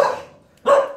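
A pit bull barks twice on the ground near a truck at an animal welfare facility, two sharp close barks separated by a short pause, with no talking over them.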